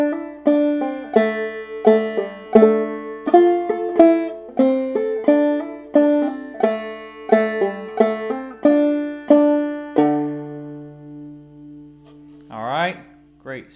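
Banjo playing the opening four measures of the fiddle tune Hog Eyed Man, with bright plucked notes in a steady bouncing rhythm that ends on a ringing chord and a short strum.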